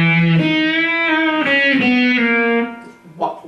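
Electric guitar run through a rotovibe modulation effect, like an old chorus: a sustained, wavering melodic line with bent, swirling notes, close and loud, fading out near the end with a short extra pluck.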